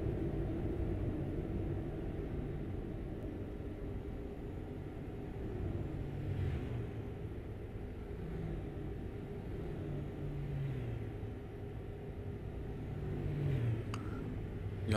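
In Euro Truck Simulator 2, a Neoplan Starliner 2 coach is driven on a winding mountain road, its engine giving a low, steady drone with gentle rises in pitch, quiet and continuous, with no talking.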